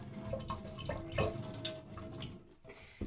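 Water pours and splashes at a kitchen sink as mushrooms are drained for vegan sarmale, a steady close running stream broken by a few drips and small clatters, with no one speaking.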